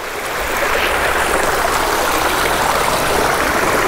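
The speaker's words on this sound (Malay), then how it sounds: "Sekarang kita nak test saja, kita try rendam dekat air." A Kospet Tank X1 smartwatch is held in running water outdoors, under a loud steady rush of splashing flow that builds in the first half second and then stays constant.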